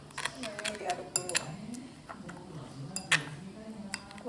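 A metal spoon stirs hot water in a bowl while preparing Hainanese chicken rice sauce, giving light repeated clinks and scrapes against the bowl, close by and fairly quiet, with someone talking over it.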